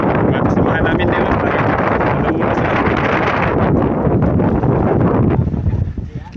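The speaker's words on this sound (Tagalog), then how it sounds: "Lakas yung hangin sa ulan no." Strong wind with rain gusts outdoors, roaring steadily and loudly in the microphone for several seconds before easing slightly at the end.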